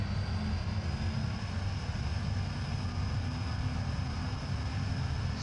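An airplane takes off down a foggy runway in the BeamNG video game, its engine roaring in a dense, constant drone for several seconds with no voices.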